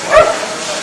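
A single short, close bark-like yip from a small fox-like dog at a dog show, loud and brief, fading into quiet background.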